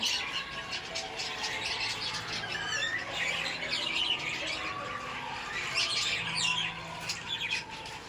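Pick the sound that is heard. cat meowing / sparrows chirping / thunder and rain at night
sparrows chirping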